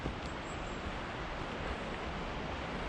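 Water gushing steadily through a mountain forest in Georgia near Mestia, a dense broadband rush that stays loud and constant throughout with no pauses or voices.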